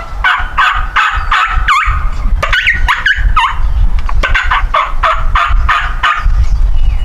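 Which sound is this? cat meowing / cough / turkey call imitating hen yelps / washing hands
turkey call imitating hen yelps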